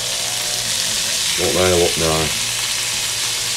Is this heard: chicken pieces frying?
yes